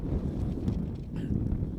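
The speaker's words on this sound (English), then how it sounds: "the wind really picked up" Steady low rumble of strong wind gusts, around 30 mph, buffeting the microphone at an outdoor lacrosse tournament in Vail, continuous and fairly loud with slight surges throughout.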